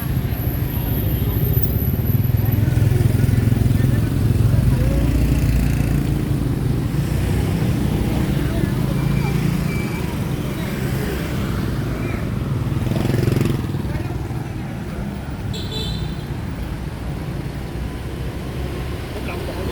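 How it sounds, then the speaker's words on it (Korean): Motorcycles pass along a street in the Phu My Hung Korean district of Ho Chi Minh City, Vietnam, their engines a steady moderate drone within the general traffic hum, with a brief louder swell midway. "이쪽으로 오니까 오토바이 타고 지나가는 분들이 조금 보이네요."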